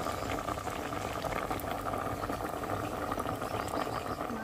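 Mushroom curry bubbling at a steady rolling boil in a pot, a dense, continuous burble and patter close by with no other sounds.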